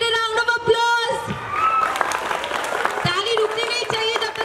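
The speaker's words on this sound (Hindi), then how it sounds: "you come give it a round of applause" An audience at a school event applauds a performer at a film festival in Rajasthan, steady clapping that carries on under a host speaking over a microphone.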